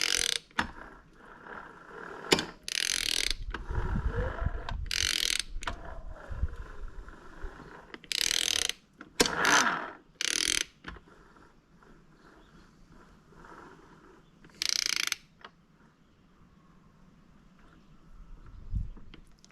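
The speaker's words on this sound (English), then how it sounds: "let's go rotate the motor." Warrior 350 motorcycle engine being turned over by hand during reassembly, giving intermittent mechanical clicks, ratcheting and gear rattle with a few sharp louder bursts between quiet gaps, close to the microphone.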